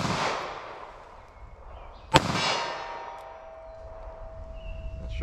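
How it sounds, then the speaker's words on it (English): A single sharp gunshot from a .38 Special Super Police round fired at a target cracks out loud and close, then fades in a ringing outdoor echo. "These tend to shoot high out of this gun, so let's see where these hit."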